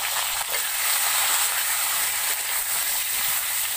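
Raw banana pieces go into hot oil in a pan just used for frying potatoes, giving a loud, continuous sizzle and hiss close by.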